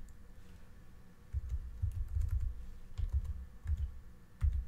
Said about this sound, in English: at the admin command prompt, you type in the word control and a space